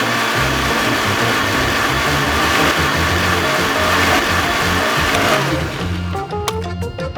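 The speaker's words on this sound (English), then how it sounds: "Whoosh goes the blender." A blender runs loud and continuous with a dense whirring roar, then cuts off near the end, leaving a few faint clinks.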